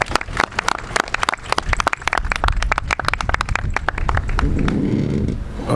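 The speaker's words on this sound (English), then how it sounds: "let's give a nice round of applause for Martin Ginsburg" A crowd at the groundbreaking ceremony for 70 Pier Street bursts into applause, with distinct sharp claps that thicken into a continuous wash of clapping before tapering off.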